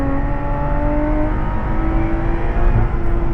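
A Lotus Exige Sport 410 on track at Anglesey holds a loud, steady engine note pinned against its rev limiter, a sustained droning roar heard close from inside the car, with no voices.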